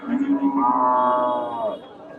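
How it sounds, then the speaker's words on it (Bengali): One long, loud moo from a native cow close by at the Hasokhali cattle market in Bogura, swelling and then fading over about a second, with a faint murmur of people in the background. "সুন্দর একটা গাবি দেশি গাবি"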